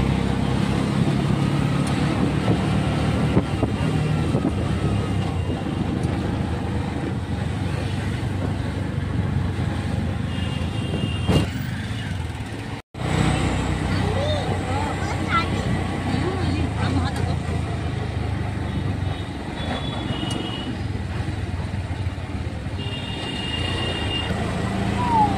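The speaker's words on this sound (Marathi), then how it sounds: "आम्ही आता रिक्षा चाललो आहोत आमच्या मैदानाजवळ." An auto rickshaw rides through road traffic in Nerul: a steady, loud engine and road rumble with passing vehicles, faint voices and crowd babble, and a brief dropout midway.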